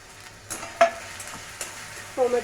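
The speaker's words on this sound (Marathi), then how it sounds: "हे अद्रक, लसूण आणि मिरची त्याची पेस्ट केली आहे घालते" Onion, ginger-garlic-chili paste and tomatoes fry in a pan for pav bhaji, giving a soft sizzle under a few scraping stirs and a brief clink near the end.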